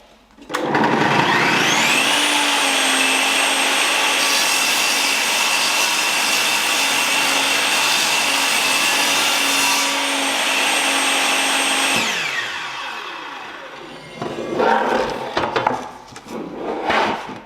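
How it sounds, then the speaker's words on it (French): A Bosch GTS 10 XC table saw spins up to a loud, steady whine while grooving a melamine board, holds a long even cutting drone, then winds down, followed by clattering handling noises. "on va pouvoir rainurer le mélaminé"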